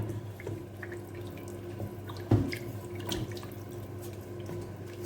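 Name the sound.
pouring about a litre of water into white beans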